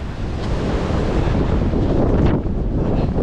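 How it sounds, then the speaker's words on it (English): Strong wind roars and buffets the microphone steadily throughout, a loud, continuous rush with gusting swells and no voices. "You can probably hear the wind getting up into that for another few miles yet."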